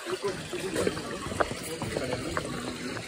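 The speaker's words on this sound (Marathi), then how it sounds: "हाँ इसे कहते हैं धबधबा." Small waterfall on a jungle stream along a forest trek to a fort, a steady splashing rush of water with faint voices murmuring over it.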